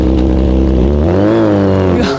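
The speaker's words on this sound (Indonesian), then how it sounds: "itu kayaknya suara motor juragan aku" A loud motor engine rumbles close by and holds a steady, strong drone that shifts pitch partway through, as if revving or drawing near.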